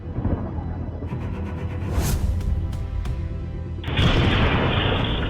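Bombing strike on Tehran captured in news footage: heavy, continuous rumbling booms and blasts with a roaring low-end wash and a sharper burst near the end, loud and distant-sounding.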